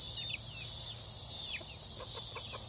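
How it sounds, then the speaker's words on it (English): Hens and baby chicks running free outdoors, with soft clucks and thin peeping chirps scattered through a steady hiss of insects and background noise; no talking. "Our grandma's let the baby chicks out for a little bit so they can run around free."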